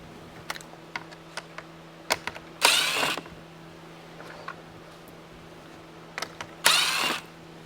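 A ratchet works on grille screws of a 2019-or-later Toyota RAV4: scattered sharp clicks and taps, with two short, loud bursts of rapid ratcheting close to the microphone.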